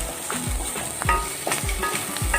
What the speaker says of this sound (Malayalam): സവാള എല്ലാം വഴന്ന് വരുന്നുണ്ട്